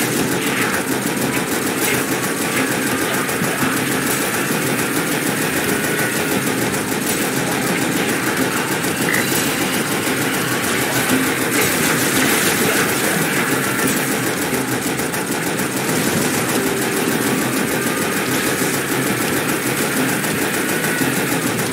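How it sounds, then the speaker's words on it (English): A Warthog vehicle engine drives steadily in the Halo Spartan Strike video game, a continuous mid-pitched motor drone with game ambience layered over it, loud and unbroken for the whole stretch with no talk. "Take the Warthog and get the conduit out of New Mombasa."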